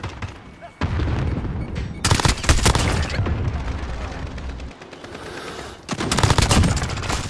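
AK rifle fire in the survival shooter Rust during a capture-the-flag match, loud rapid automatic bursts in several strings with short pauses, dense and close.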